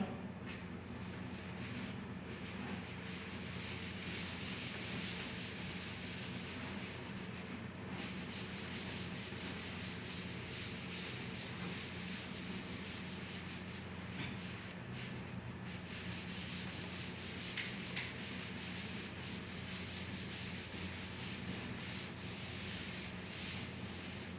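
Writing is erased from a classroom board in one steady, continuous rubbing swish that goes on for about twenty seconds at an even, soft level, with no voices over it.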